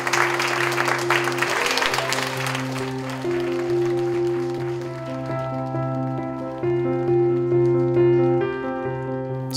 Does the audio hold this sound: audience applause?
yes